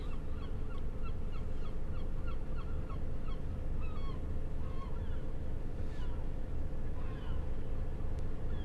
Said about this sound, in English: the seagulls are having a field day today